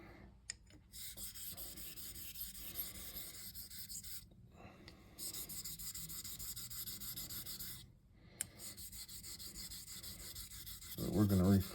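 A vintage Imperial straight razor is honed on a coticule stone, giving soft, steady rubbing strokes interrupted by a few brief pauses and faint taps.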